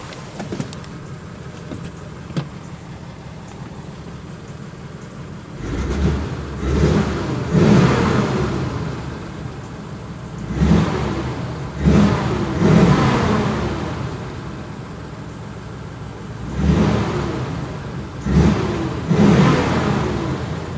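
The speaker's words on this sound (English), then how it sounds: "It's amazing how smooth these flatheads are, especially for being as old of an engine as it is." A 1948 Ford Super Deluxe Tudor's flathead V8 starts with a quiet idle, then gives several short, close revs in uneven bursts, each rising and settling back to a smooth idle.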